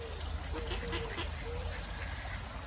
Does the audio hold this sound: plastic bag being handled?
no